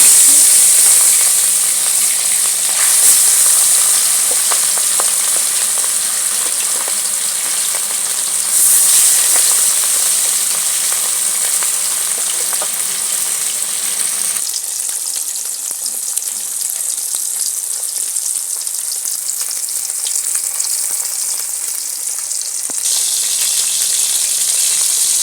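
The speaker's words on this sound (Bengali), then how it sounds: "এইবারে আমি গ্যাসটা ধরিয়ে মাছগুলো ভেজে নেব" Fish frying in hot oil in a pan for a Bengali thin fish curry with papaya and ridge gourd: a steady, loud, broadband sizzle and hiss that runs continuously, shifting slightly in intensity, with no talking.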